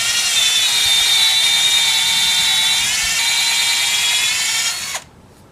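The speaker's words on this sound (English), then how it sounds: "Sometimes you might hit knots, it might be a little harder to drill through" A power drill whines steadily at high pitch for about five seconds, loud and close, drilling into a hardwood log for mushroom inoculation, then stops abruptly.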